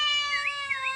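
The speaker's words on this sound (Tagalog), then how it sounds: "Pusa nga ro dagmiyaw" A cat meows loudly and close up, one drawn-out tonal cry with a wavering pitch rising and falling twice, heard alone without speech.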